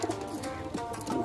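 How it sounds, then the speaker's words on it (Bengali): A rock pigeon coos briefly at close range, with a few soft throaty notes and no voices over it. "গোলা পায়রা"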